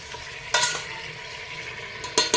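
Mutton stirred into masala in a pan for a Solapuri mutton rassa, with a steady low sizzle and a few loud scraping bursts of the spoon against the vessel near the start and end.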